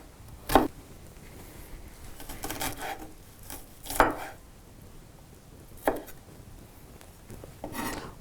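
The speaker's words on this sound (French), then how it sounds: "j'ai mon oignon que je vais rincer. Ensuite, je vais découper." A knife chopping an onion on a board, a few sharp, separate cuts spaced a couple of seconds apart, with quieter rubbing and scraping in between and no voices.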